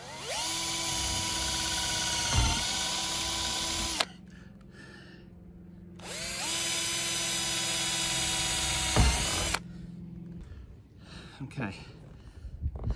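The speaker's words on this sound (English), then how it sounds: "let's just pop a couple pilot holes in here" A spare handheld drill boring pilot holes into a Mercedes Sprinter van's metal roof for a MaxxAir fan install, two loud sustained whining runs with a pause and some handling noise in between.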